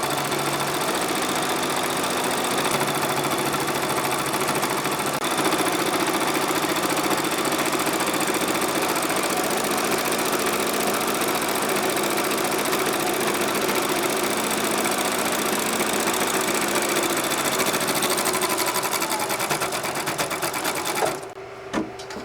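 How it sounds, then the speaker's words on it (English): A sewing machine runs continuously while back stitching a triangle fabric hot pad, a loud, close, steady mechanical whir with rapid needle rhythm that stops abruptly near the end, leaving a couple of faint clicks. "just back stitch at the corner, hard, back stitch, and sew."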